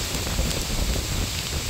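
Dense hail patters and rattles on nearby surfaces, a steady crackling downpour of small hard impacts with no talking.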